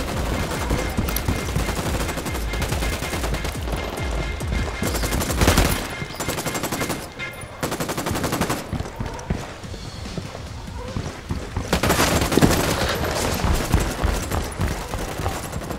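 Gunfire in Ghost Recon Wildlands, with bursts of rapid shots and loud game action coming in waves, mixed with hoof-like thuds and brief talk.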